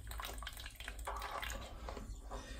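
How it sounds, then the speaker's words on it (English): Water drains from a combi boiler's pressure release into a jug, a steady close trickle and splash with no speech. "just like drain into your jug. You might need a cloth underneath as well, because it'll probably drip."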